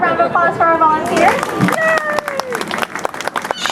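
Audience applauding a volunteer at a Palm Beach Zoo show, a burst of clapping and crowd chatter that starts under speech and then swells, fairly loud and close.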